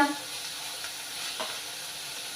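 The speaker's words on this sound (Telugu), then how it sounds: "పచ్చిమిర్చి ఎండుమిర్చి ఉల్లిపాయలు వేసి వేయించుకోవాలి ఇలాగా" Green chilies, dried red chilies and onions frying in a pan give a steady, even sizzle with faint stirring, close and continuous throughout.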